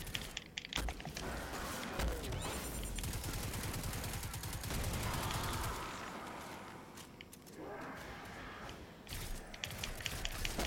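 Rapid gunfire in the video game Destiny 2, sustained bursts of automatic shots crackling steadily throughout, loud and close with a dense rattling texture.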